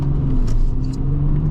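A manual-transmission car engine accelerates after pulling away, a steady loud rumble with rising hum held close throughout, without speech.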